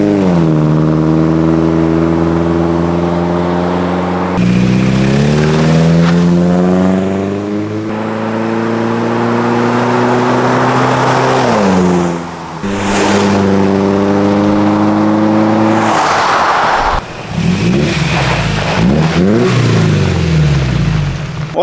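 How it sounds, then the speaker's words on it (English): Toyota Tacoma with a Flowmaster Flow FX muffler exhaust revving repeatedly, engine pitch climbing and falling in loud, close bursts with short pauses between, no talk over it. "this is the Flowmaster Flow FX muffler"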